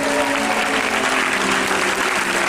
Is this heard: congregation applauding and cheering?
yes